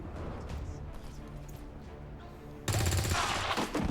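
A single sharp gunshot in a co-op shooter video game cracks out loud and close partway through, its bright burst and ringing tail rising above a low, steady game ambience.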